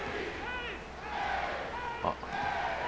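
A wrestling arena crowd in WWE 2K23 keeps up a steady roar of cheering and chant-like shouting, a dense continuous wash of voices with a brief sharp impact partway through.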